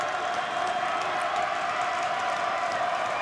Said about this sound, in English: The Tech crowd getting loud here now.